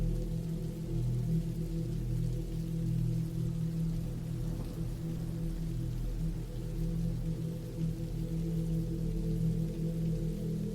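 Steady, continuous rain falls as a dense, even hiss with a low rumbling bed, constant and unbroken throughout, no voices, evoking a cabin in the woods setting.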